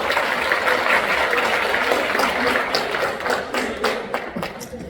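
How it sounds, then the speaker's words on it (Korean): Large crowd applauding at a Korean political rally, dense steady clapping that fills the space for the whole stretch, with a few sharper individual claps standing out near the end. "여러분 큰 박수 부탁드리겠습니다"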